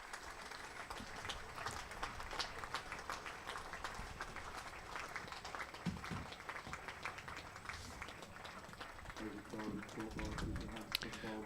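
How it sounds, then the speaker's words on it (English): Faint, distant cricket crowd applause for a batsman leaving the field during a Leicestershire v Glamorgan County Championship match, a sustained ripple of clapping with a commentator talking over it. "Let's let you hear the applause for him as he leaves the field."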